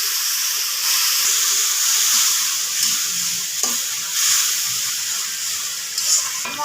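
A little water hits hot spices and ginger with chilli powder frying in a pan, giving a loud, steady hiss and sizzle that runs continuously, with faint clinks of stirring.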